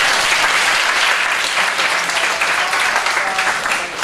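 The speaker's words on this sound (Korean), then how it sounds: "박수 한번 주십시오." Audience applause fills a room at an evening church gathering, a dense, steady clapping that holds for about four seconds and tapers slightly at the end, with no talking.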